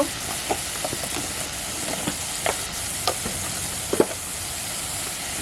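Ginger and spice paste with turmeric frying in a pan for a snake fish curry, a steady sizzle broken by scattered spoon scrapes and clicks, fairly close and with no one talking.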